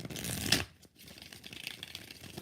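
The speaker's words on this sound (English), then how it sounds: "Four shuffles." Tarot cards shuffled by hand during a live reading, a crisp riffling burst followed by softer papery sliding and rustling, close and alone without talk.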